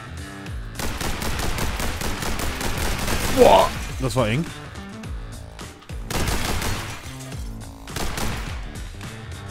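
Rapid pistol gunfire from the video game The Hong Kong Massacre, bursts of sharp shots with a pause in between, game music underneath, and someone speaking over the action.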